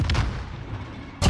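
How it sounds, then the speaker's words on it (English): A stun grenade detonating in a Call of Duty match, one sharp loud bang followed by a short rumbling decay, with a second blast starting at the very end. "Stun grenade out."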